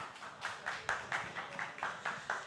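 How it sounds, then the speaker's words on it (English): Clapping at a Rado brand ambassador event for Hrithik Roshan comes as distinct, evenly spaced claps in a steady rhythm, moderately close, from what sounds like a small number of people rather than a full crowd. "A huge round of applause."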